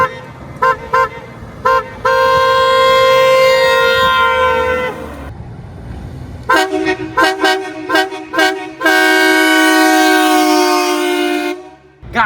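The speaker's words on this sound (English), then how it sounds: "We're gonna go get some fly-by honks of this extremely loud rocker" HornBlasters rocker air horn on a Mazda 6 blasting very loud, a series of short staccato toots followed by long sustained honks, repeating in two clusters close up.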